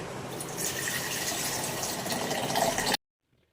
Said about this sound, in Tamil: பால் ஒரு கப் ஊற்றிக்கலாம்.